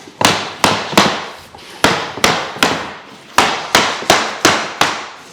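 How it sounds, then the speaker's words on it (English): Sharp, loud taps of a plank hammer knocking vinyl plank flooring into place, about a dozen close strikes at a fairly steady, slightly uneven rhythm, each with a short decay, with no talking. "when you're using the plank hammer, you want to keep one end up against the plank and just bring it in and swing it"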